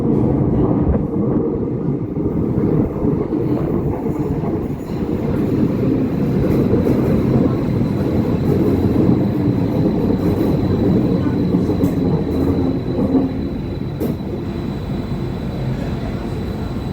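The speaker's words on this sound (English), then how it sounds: "So let's start off by taking a look at the new trains." A new Tyne and Wear Metro train rumbles steadily and loudly throughout, a continuous low rolling roar with faint higher whine and no pauses.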